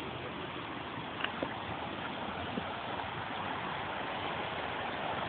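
A flooded river runs high at a park in Fairfax, a steady, broad rush of water heard at moderate distance with a few faint knocks, no voices over it.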